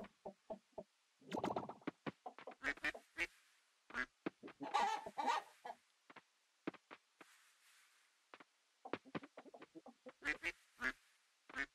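Ducks in the farming video game Coral Island quack repeatedly in short, irregular bursts, loud and close, with a few longer flurries and brief pauses between calls.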